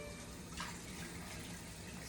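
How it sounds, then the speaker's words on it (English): Heavy cream poured from a cup into hot homemade caramel at about 300 degrees, a steady close liquid rush and sizzle running the whole time with no talk. "We're gonna add in the cup of heavy cream."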